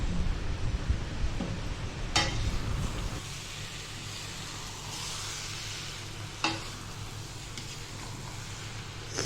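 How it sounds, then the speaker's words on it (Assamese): Peas, fried potato and paneer being stirred together in a frying pan for matar paneer: a steady close sizzle with scraping stirs and two sharp utensil knocks, no voices. "এতিয়া মই মটৰখিনিত ভাজি ৰখা আলু আৰু পনীৰখিনি দি সকলোখিনি ভালদৰে মিহলাই ল'ম।"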